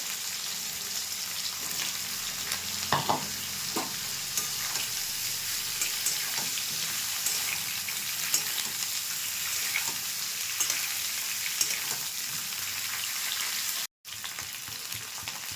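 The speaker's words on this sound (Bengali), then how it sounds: "ফুলকপিটা ভাজা হয়ে গেছে" Cauliflower pieces, lightly steamed in hot water beforehand, fry in hot oil with a steady, close, crackling sizzle that runs almost unbroken, cutting out briefly near the end before resuming; no one speaks.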